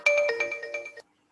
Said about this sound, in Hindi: यार ये किसका फोन आ रहा है?